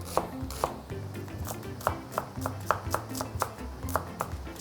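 A knife mincing food on a cutting board, with sharp, irregular chops repeating near and clear through the whole stretch over a low background hum, and no voices.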